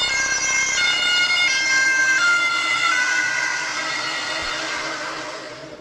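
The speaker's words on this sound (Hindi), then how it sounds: "आपने देखा कि एम्बुलेंस के सायरन की आवाज की फ्रीक्वेंसी लो से लेकर हाई और हाई से फिर लो हो गई" An ambulance siren wails as the vehicle approaches and drives past, its rising and falling tones sliding downward in pitch as it passes, loud at first then fading with distance, accompanied by faint road noise.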